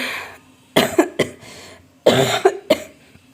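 Two close, loud bouts of coughing, each a burst of three or so harsh coughs separated by a brief pause.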